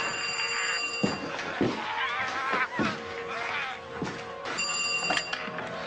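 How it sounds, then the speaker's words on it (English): A telephone rings repeatedly in bursts in a drama film scene, the electronic bell tone recurring over busy background noise and scattered movement sounds. "That phone."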